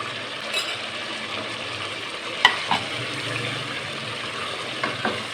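Crushed fried onion sautéed and stirred into chicken daigi qorma, a low, even sizzle with a few scattered clinks and scrapes of the spoon, heard alone without talk.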